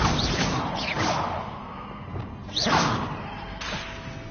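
A magical Arresto Momentum spell is cast in the video game Hogwarts Legacy, heard as sharp whooshing swishes and heavy thuds in a brief burst of combat effects.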